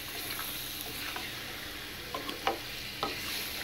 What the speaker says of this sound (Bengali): মাংস আলু মশলা একসাথে আমি কষাই নিতেছি